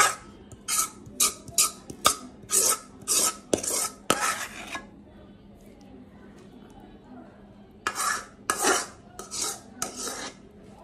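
A spoon scrapes and clatters against a cooking pot as cooked taro leaves (kochu shak) are emptied into a serving dish: two bursts of brisk, rhythmic scraping strokes separated by a quiet pause, close and fairly loud.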